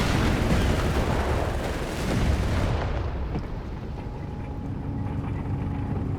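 German Panzer tanks fire in Company of Heroes 3 during a DAK versus USF match: heavy booming blasts and rumbling impacts pile up at first, then fade into a quieter hum of distant battle.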